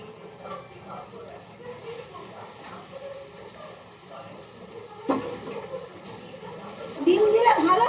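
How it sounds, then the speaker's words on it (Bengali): Chow noodles go into a frying pan and get stirred, a low sizzle with rustling and scraping that grows louder and busier toward the end, while a voice talks over much of it. "এই যে এবার চাউগুলো দিয়ে দিচ্ছি।"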